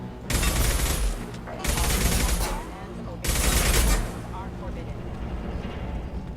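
Mechs firing guns in the video game Mass Effect 2, heard as three loud, heavy bursts of rapid gunfire separated by brief lulls, with a rumbling tail after each volley.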